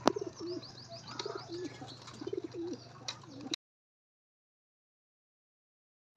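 Racing pigeons cooing inside a loft, a few soft repeated coos with light chirps close by for about three and a half seconds, then abrupt silence.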